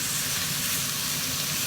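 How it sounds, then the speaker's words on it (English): Blanched broccoli and potatoes frying in a pan for spicy pan-roasted potatoes, a loud, even, close sizzle that holds steady throughout with no talking. "I will put in my vegetable, which is my broccoli, blanched broccoli. Put it in, stir it all around"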